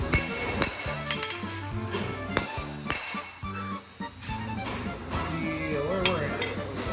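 Hammer blows on a rail spike being forged into a dagger at a blacksmith forge, with repeated metallic strikes and ringing taps, while a person talks in between.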